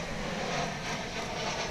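An American Airlines passenger plane arriving from Portland on approach to DFW International Airport, heard as a steady, loud, unbroken engine roar with no voices.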